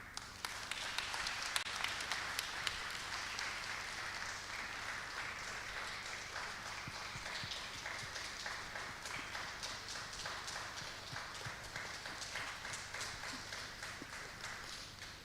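Audience clapping steadily at an arts-for-health congress opening in Ukraine, a dense sustained patter of many hands across the whole stretch with no voices over it.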